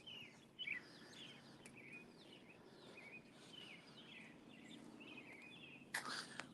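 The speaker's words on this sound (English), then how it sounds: "I'm sure you can hear birds in the background" Birds chirp and twitter repeatedly in the distance during an outdoor walk, over a faint background hum, with one sharper call near the end.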